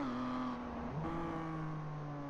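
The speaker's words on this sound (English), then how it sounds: "Listen to this, very low revs." Race car engine in a GT Masters race lugging at very low revs in third gear while exiting a corner, a steady close drone with a brief dip and shift in pitch partway through, no voices.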